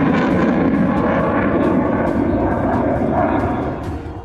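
Indian Air Force fighter jet flying low over the Purvanchal Expressway during an air show rehearsal, a loud roaring engine rush that holds steady and then begins to fade near the end.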